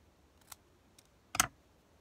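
Scissors cut paper for a scrapbook card: two faint snips, then one louder, sharper cut close by in a quiet room.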